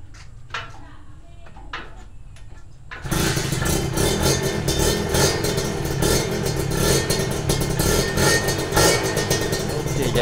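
A red Kawasaki RR two-stroke motorcycle fires up after a few quiet clicks and clunks, then idles and revs with a loud, steady, rattly buzz close by.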